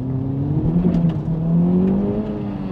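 A 2024 Acura Integra Type S, a front-wheel-drive car, corners hard on a wet road, its engine holding a steady loud drone that climbs slightly in pitch with faint tyre hiss beneath.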